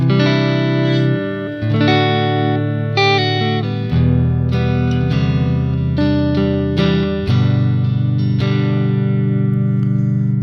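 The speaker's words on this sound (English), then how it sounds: "Got the Telecaster here with the retroactives, and we're just gonna run through some clean tones." Clean electric guitar, a Telecaster with EMG Retro Active T-52 pickups, plays a chordal passage with ringing sustained notes and light reverb, strummed chords changing every couple of seconds, alone without voices.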